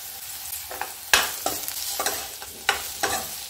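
Grated ginger and chillies fry in hot oil in a pan, giving a soft sizzle broken by repeated scraping stirs at an uneven rhythm, close and fairly quiet.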